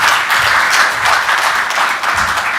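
Audience applause at a bank group's half-year financial results presentation, dense steady clapping from a crowd filling the whole stretch without pause.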